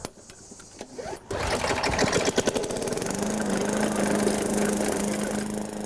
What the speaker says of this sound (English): Wise use of your lawnmower can also make a big difference.